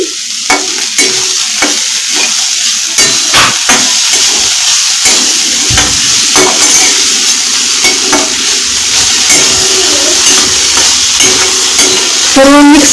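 Misal masala sautés in a pan, a loud, continuous sizzle close up, broken by repeated scraping and tapping of a spoon stirring against the pan.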